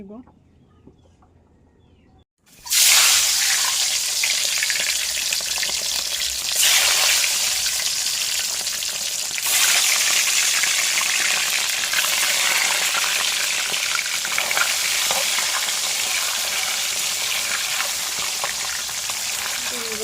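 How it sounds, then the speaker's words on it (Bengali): Eggs seasoned with turmeric and salt frying in a pan: after a short quiet moment, a loud, steady sizzle bursts in and continues without a break, swelling slightly at times. "ডিমগুলো একটু ভালো করে ডিমগুলো বেজে নিলাম"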